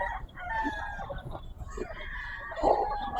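A large rooster at an outdoor market crows and clucks nearby, with bustling market background noise around it.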